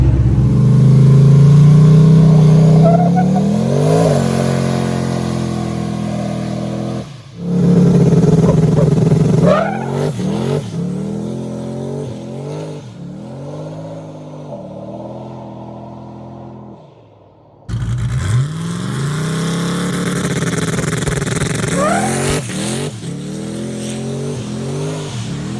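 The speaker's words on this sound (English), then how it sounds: "we're gonna pour a couple puddles, 2 burnouts, and see what it does" A drag car on a no-prep track revs hard and roars at high RPM in several long burnout bursts, with a brief lull and a drop to near silence before another screaming pull.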